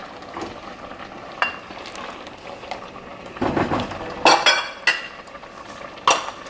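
Tamarind goes into a pan of chana masala with a low frying sizzle, then a metal spoon clinks and scrapes against the pot in several sharp, irregular knocks while stirring.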